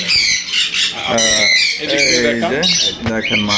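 Loud, harsh squawks from birds repeat in quick succession, close up, with raspy calls overlapping throughout.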